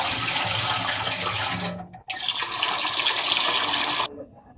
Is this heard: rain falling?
no